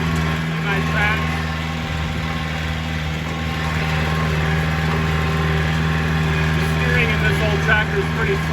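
An old tractor drives across a sand-based athletic field while spreading Milorganite organic fertilizer on the turf, its engine a steady, rumbling drone with a constant low hum, while someone talks over it.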